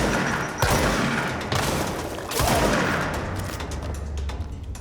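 Rocket fire and explosions from enemies in the video game Control, a dense barrage of booming blasts with several sharp bursts around one, one and a half, and two and a half seconds over continuous rumbling combat noise.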